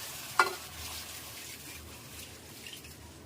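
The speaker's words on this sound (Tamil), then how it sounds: "டூ ஹண்ட்ரட் எம்எல் தண்ணி ஊற்றிடலாம்" Water is poured and stirred into crab curry frying in a pan, a quiet sizzle with a brief splash near the start followed by soft stirring and bubbling.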